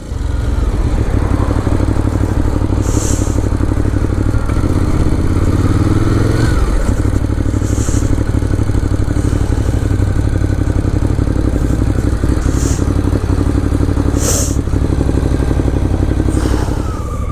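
A 2018 Ducati Monster 821 is ridden through the sunny English countryside, its engine droning loud and steady with shifting revs, heavily overlaid by wind rush and buffeting.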